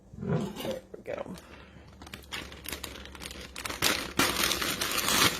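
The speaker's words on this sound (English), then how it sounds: "Open my bag of cut carrots" Crinkly plastic bag of frozen cut carrots being torn open and rustled at close range, a busy run of crackling and crumpling that grows louder toward the end, with some talk early on.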